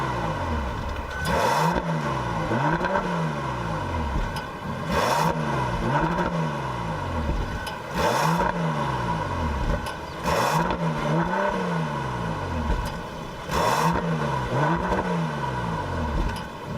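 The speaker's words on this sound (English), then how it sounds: "let's listen to what the W12 sounds like through the exhaust system" A 2017 Bentley Bentayga W12 engine revs repeatedly through the exhaust, rising and falling in pitch with sharp bursts between, loud and close with no talking.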